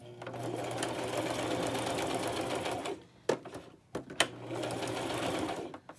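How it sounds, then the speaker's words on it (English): A sewing machine stitches a pocket in steady bursts of rapid stitching, pausing briefly with a few clicks and knocks before starting up again. "So I'm going to sew the pocket"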